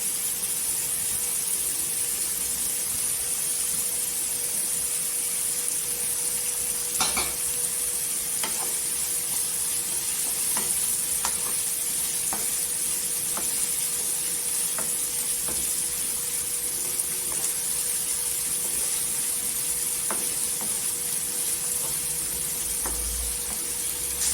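Chopped onions fry steadily in a pan until golden for a cauliflower bhaji. A continuous even sizzle runs throughout, with occasional soft clicks from stirring and no talking.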